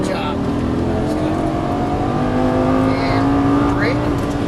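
A Lamborghini Gallardo engine in a racing video game hums steadily and rises gradually in pitch as it accelerates, a continuous mid-level drone beneath a voice giving driving instructions.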